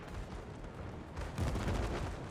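Naval gunfire in World of Warships: loud, continuous rumbling booms that surge heavier about halfway through, with no voices.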